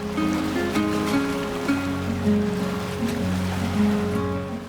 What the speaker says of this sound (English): you can actually hear the waves rolling in